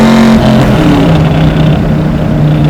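A blown LS-swapped 1969 Chevy Camaro making about 750 hp accelerates hard, its loud engine droning close with rising pitch through a steady pull and no talk.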